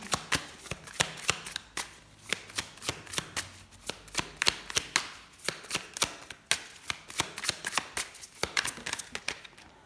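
Tarot cards are shuffled close up in quick, rhythmic bursts of crisp riffling and slapping, repeated many times with no talking.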